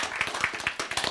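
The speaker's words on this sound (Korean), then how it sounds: "탁 이런 거네. 박수죠" Hand clapping during a Korean lecture on the Bible and science: a quick run of sharp, close claps in an uneven rhythm, fairly loud and alone.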